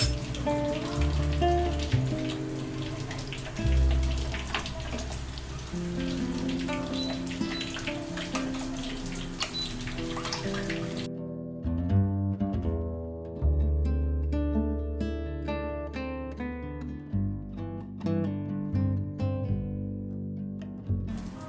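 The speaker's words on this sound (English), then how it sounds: "Now let's fry the sausages. These are German-style sausages and they're really delicious." German-style sausages fry in a pan with a dense, steady crackle and sizzle, like rain on a surface, that carries on throughout, partly under a light musical backing.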